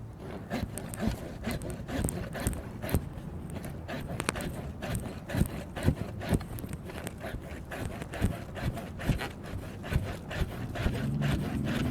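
A hand saw cuts through an acerola tree branch during pruning, with steady repeated rasping strokes close by for the whole stretch, a bit uneven in rhythm and with no talking.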